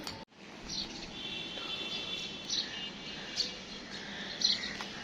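Small birds, including weaver birds, chirping and tweeting at a distance in a rooftop garden, brief high calls scattered over a faint steady outdoor hum.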